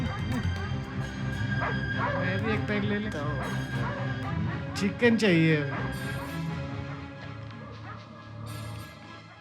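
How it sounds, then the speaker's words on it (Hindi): A dog barks and yelps in short bursts somewhere in a dubbed Hindi action-film scene, mixed under ongoing dialogue between men. "वहाँ कुत्ता क्यों भौंक रहा है?"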